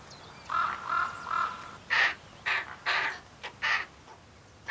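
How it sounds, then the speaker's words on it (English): Ravens call from high rock walls at a nest with young chicks during breeding season: a series of about seven loud, hoarse caws and croaks, some drawn out, some clipped, fairly close against a steady outdoor hiss. "High on the rock walls, many pairs of ravens already have young chicks."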